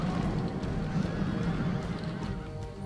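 Massed cavalry charging in a Rome: Total War Barbarian Invasion online battle, a dense continuous rumble of hooves and horse noise with faint whinnies, steady and moderately loud.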